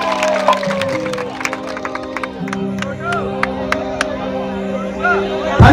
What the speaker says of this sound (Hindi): एक बार ताली हो जाए इनके लिए जोरदार